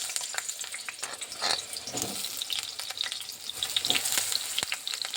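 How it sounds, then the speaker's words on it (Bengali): Potatoes fry in mustard oil in a kadai, giving a steady, close sizzle and crackle with a few louder spattering pops throughout. "এখানে প্রথমে আমি একটা কড়াতে সর্ষে তেল দিয়ে দিলাম"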